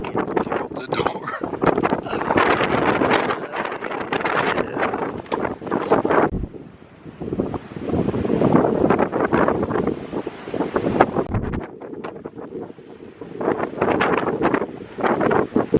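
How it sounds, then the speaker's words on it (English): Heavy wind batters the microphone outside a camper van at a campground, roaring in loud sustained gusts with short drops, and a person talks intermittently beneath the noise. "As y'all can see, it's super extra duper windy."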